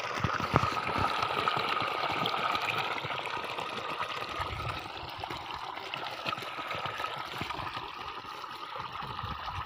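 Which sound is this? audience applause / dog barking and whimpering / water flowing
water flowing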